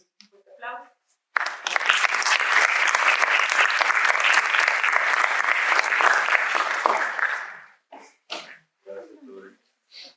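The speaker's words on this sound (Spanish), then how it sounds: "Entonces, un fuerte aplauso." An audience at a literary talk on translating Patti Smith's poems bursts into strong applause lasting about six seconds, dense and even before fading, with brief speech just before and after.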